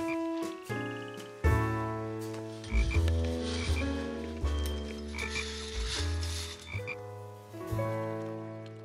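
Cartoon frogs croak in a lake scene with sand, mud, snails and water lilies, a series of loud, deep, bouncy croaks in an uneven rhythm over several seconds.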